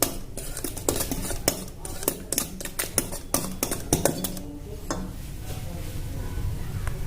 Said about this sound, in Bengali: এবার এই সব উপকরণগুলো আমরা মিশিয়ে নেবো একটা হুইস্কার সাহায্যে।